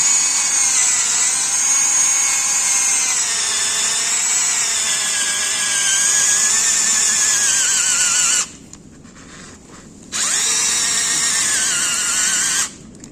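A cordless Aldi Ferrex SDS drill runs at a loud, steady whine while boring in, then cuts out abruptly as its battery runs low, restarts briefly, and stops again near the end.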